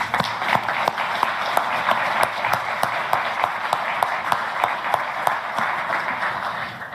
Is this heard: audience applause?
yes